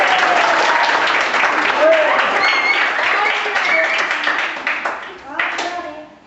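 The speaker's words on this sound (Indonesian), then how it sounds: "Tepuk tangan untuk kelompok 1" Group 1 gets a round of applause from a class, a dense burst of clapping with voices mixed in, near and steady before tapering off toward the end.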